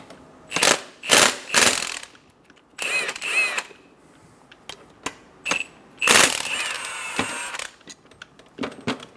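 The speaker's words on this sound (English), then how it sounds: "Remove the two 18 millimeter bolts." A ratchet loosens the 18 mm caliper bracket bolts on the front brakes of a 2014-2018 Chevrolet Silverado 1500. Several bursts of rapid clicking come close up, with short pauses between them and quiet gaps.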